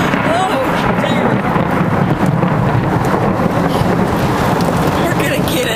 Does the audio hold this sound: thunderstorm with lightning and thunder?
yes